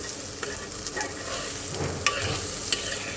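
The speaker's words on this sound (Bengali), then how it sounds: "পেঁয়াজটাকে আর কাঁচামরিচটাকে ভেজে নেব" Onions and green chillies sizzle and fry in a pan, with a few scraping stirs of a spoon.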